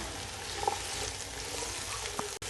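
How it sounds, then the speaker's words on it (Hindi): Small carrot pieces frying in hot oil, giving an even, continuous sizzle with a couple of light clicks, close and alone. "अब हम सबसे पहले ये गाजर को फ्राई करेंगे।"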